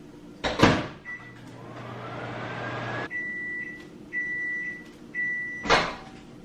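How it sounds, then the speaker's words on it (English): A microwave oven reheats a bowl of soup in a kitchen. A steady low hum runs for a few seconds, and a door handles and clunks. Then come several short, bright electronic beeps, fairly close and with no talk. "So I'm gonna go ahead and microwave this"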